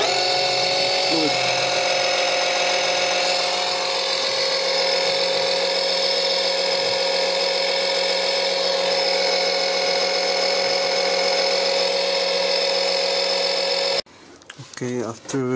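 Portable fluid extractor pump sucking old power steering fluid from a leaking 2004 Nissan Murano, a steady loud mechanical whine and hum running unbroken for about fourteen seconds before cutting off into brief scattered clatter.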